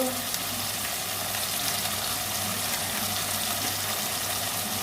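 Turmeric and coriander powder frying in a pan for a banana-flower, prawn and potato curry, a steady broadband sizzle running evenly throughout with no breaks.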